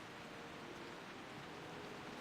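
Rain falls steadily in World of Warcraft, a soft, even hiss of drops that stays unbroken and fairly faint throughout, with no voices over it.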